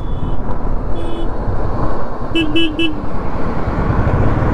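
Road traffic hums steadily on a highway in Kashmir while a car horn sounds, first one short toot, then three quick honks in a row.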